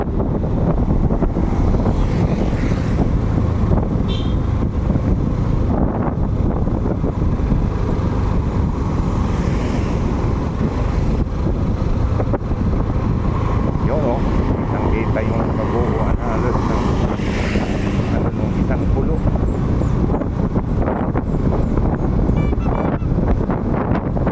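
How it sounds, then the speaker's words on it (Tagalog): Vehicle engines drone constantly while climbing a steep, rough mountain road, mixed with heavy wind buffeting on the microphone and someone talking throughout. "Oh, tamo yan, mga ugong ng makina."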